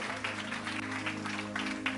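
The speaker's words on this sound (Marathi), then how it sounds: "पुन्हा एकदा जोरदार टाळ्या प्रभूच्या गौरवासाठी मी वाजूयात." A church congregation applauds together for the glory of the Lord, with dense, steady clapping that runs the whole time and a low sustained tone, probably organ or keyboard, playing beneath it.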